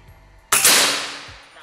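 A Gorilla 500cc full-CNC PCP air rifle fires a single Mimis Hercules pellet: one loud, sharp crack close by, followed by a long ringing decay that fades over about a second.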